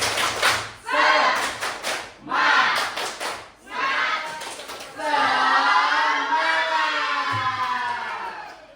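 Elementary school class doing a rhythmic spirit clap in a science microteaching lesson, children chanting along with bursts of clapping that build into louder group voices.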